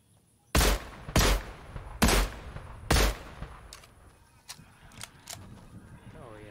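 Four loud, evenly spaced sniper rifle shots boom close by in the Fortnite video game, followed by fainter, more distant cracks and shots as the exchange continues.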